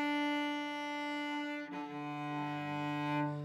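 A solo cello plays a shifting exercise, moving from first position up to third position on D. Two sustained bowed notes are heard close and clear, joined by a short break at the shift, with no talk.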